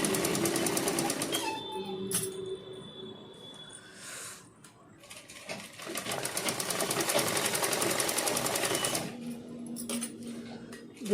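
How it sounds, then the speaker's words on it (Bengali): A sewing machine stitches fabric for a stuffed lining with a steady, rapid mechanical chatter. It runs in bursts with brief pauses, close by and moderately loud. "এবার দেখো সেলাইটা দিয়ে দিচ্ছি।"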